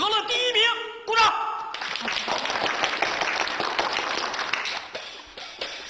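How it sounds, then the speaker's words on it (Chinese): Brief clapping in a Chinese period comedy scene following a speech, a scattered round of applause that begins after a short bit of talk and continues at moderate level for several seconds before tapering. "鼓掌"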